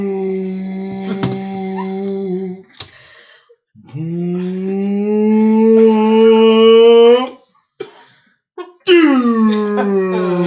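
A man imitates a whale's call as the punchline of a joke: long, low moaning voiced wails with rising and falling pitch, in three loud drawn-out phrases separated by short pauses, close to the mic.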